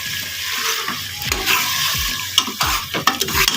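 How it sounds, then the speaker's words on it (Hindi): Bottle gourd being stirred into masala in a pan, a series of scraping spoon strokes with a soft sizzle beneath, close and alone. "अभी इसमें कद्दू शामिल कर दूँगी। कद्दू शामिल करने के बाद हम इसको अच्छे से मिक्स कर लेंगे।"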